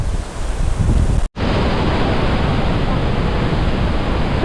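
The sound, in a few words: roar of Iguazu Falls waterfall, Argentina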